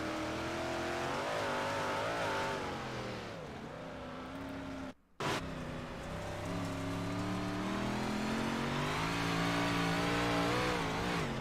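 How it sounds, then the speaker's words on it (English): A big-block modified race car engine revs hard and high on a dirt track, given too much throttle into a corner, briefly cutting out before roaring back, with a sustained whining drone throughout. "Too much throttle going in the corner"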